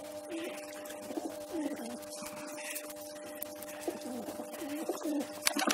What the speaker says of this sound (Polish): Gołębie sobie jedzą.